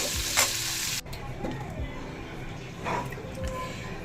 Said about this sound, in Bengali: এটা একটু ভাজা হোক।